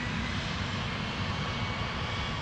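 Jet airliner engines roaring steadily at Minneapolis–St. Paul Airport as a heavy aircraft takes off, a broad, continuous rumble heard from a distance with no change in level.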